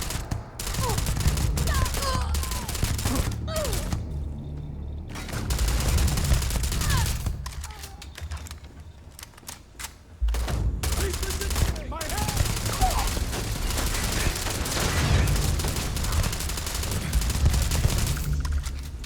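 Rapid automatic gunfire from a weapon in the sci-fi video game Starfield crackles in dense bursts, pausing briefly before resuming, loud and busy with voices speaking over parts of it.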